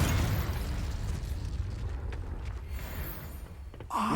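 Fire spell cast in the video game Hogwarts Legacy: a loud, sustained whooshing, crackling burst of flame filling the clip, easing slightly before a new swell at the end.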